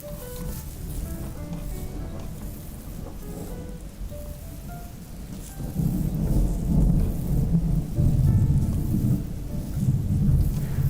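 A proper thunderstorm with heavy rain, thunder rumbling low and loud throughout and swelling stronger in the second half, steady rain hiss beneath.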